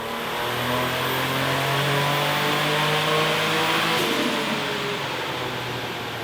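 A turbocharged car revs hard on a dyno at about 5 psi of boost, its engine note climbing steadily, loud and close for several seconds before easing off near the end.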